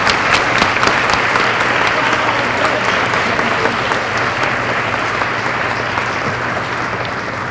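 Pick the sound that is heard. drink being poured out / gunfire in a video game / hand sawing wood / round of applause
round of applause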